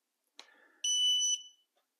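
A Creality Falcon2 22W laser cutter engraver gives a short startup beep as it powers on: a brief click, then a single clear electronic tone lasting about half a second, heard alone in a quiet room.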